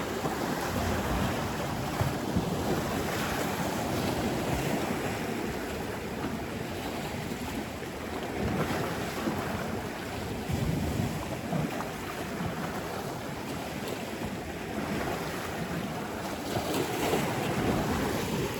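Lake water laps steadily against rocky shoreline rocks in a continuous wash, mixed with constant wind buffeting the microphone, with no voices.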